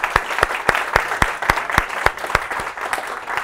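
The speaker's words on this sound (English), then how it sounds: "We can get a better round of applause for that" A small audience at a bookstore author event claps, with a handful of distinct, sharp hand claps standing out over lighter scattered clapping in an uneven rhythm.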